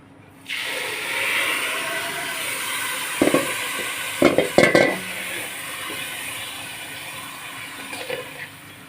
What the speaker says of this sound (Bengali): আমি এখন শিরাটা ঢেলে দিব